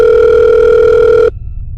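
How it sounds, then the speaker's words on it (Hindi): A phone sounds a steady, loud electronic tone for just over a second, then it stops abruptly, leaving faint low background noise. "थोड़ी देर बाद समारा का फ़ोन बजा।"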